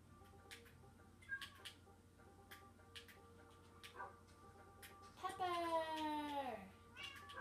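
A cat in the Minecraft game on Xbox 360 lets out a short, loud meow with a falling pitch partway through, amid faint game clicks and ticks in the background.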